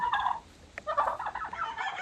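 Turkeys gobbling inside a chicken barn, a short gobble, a pause, then a longer burst of warbling gobbles, close and fairly loud with no talk.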